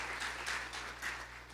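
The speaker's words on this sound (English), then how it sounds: "Please now give him a round of applause." A brief round of applause from an audience at an indoor event, quiet and somewhat distant, with the clapping swelling and fading over a second or two.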